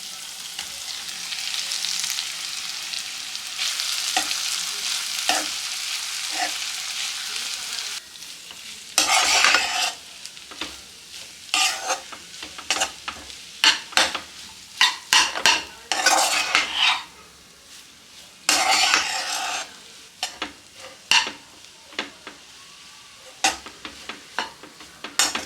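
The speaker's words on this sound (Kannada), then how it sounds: "ಒಂದು 30 ಸೆಕೆಂಡ್ ಅಷ್ಟು ಇದನ್ನು ಹೈ ಫ್ಲೇಮಲ್ಲಿ ಹುರ್ಕೊಳ್ಳೋಣ." Rice being stirred and fried on high flame for tomato rice, with steady sizzling and repeated scraping clinks of a spatula against the pan in bursts, close and fairly loud.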